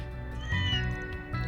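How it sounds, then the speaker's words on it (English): A cat meows once in the video game Trails through Daybreak 2, a short, clear, close meow over a steady game background. "what's up with this cat?"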